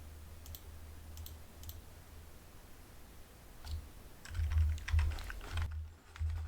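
Computer keyboard keys clicked, first a few sparse isolated taps, then a quicker cluster of presses before a brief silence and one more tap, close and clear.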